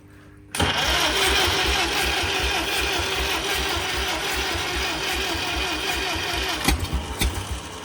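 An old, long-neglected tractor engine is cranked over to start, a loud steady rapid chugging that churns continuously after a brief quiet opening, with a few louder pops and sputters near the end.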